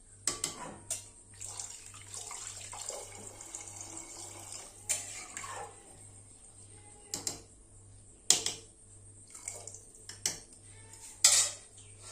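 Khichuri of Gobindobhog rice and dal stirred in a pot, with scattered scraping and clinking strokes of a utensil against metal, irregular and close, amid a faint steady hum, no talk.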